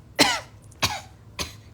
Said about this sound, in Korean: 갑자기 기침이 나와서